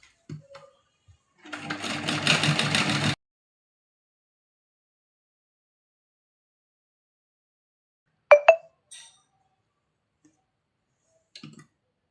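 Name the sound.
sewing machine stitching tucks on a blouse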